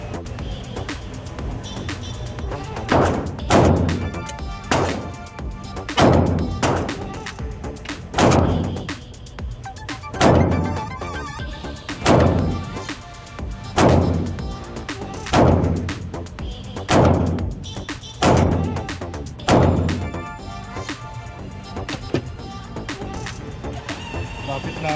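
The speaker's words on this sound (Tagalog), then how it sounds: "So, ayan yung mga putok natin." Loud, sharp bangs repeat roughly every second or so from a close-range test firing, a steady run of about a dozen reports with brief gaps and low rumble between, and voices murmuring underneath.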